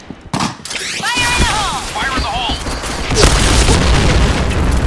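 A grenade goes off in a Point Blank firefight: a sharp blast early, then continuous booming, rattling gunfire and a second heavy burst, with game voice callouts layered over the din.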